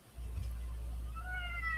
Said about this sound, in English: someone's meowing in the background.